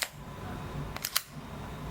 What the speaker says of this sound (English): You can now pull it out of your bag, and as I ratchet it,